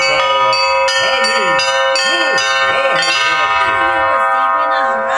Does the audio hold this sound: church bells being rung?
yes